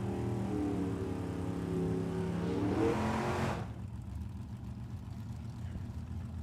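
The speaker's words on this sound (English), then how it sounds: "Look at a dragster." A big block Chevy-powered dragster roars loudly down the strip at a drag race, its engine note rising steadily before cutting off sharply, leaving a distant background rumble.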